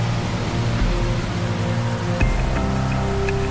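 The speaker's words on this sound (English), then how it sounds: "Rain." Steady rain falling on a Wednesday morning before a pyrotechnics show, a dense continuous hiss with faint low hum and a few distinct drips, no voices.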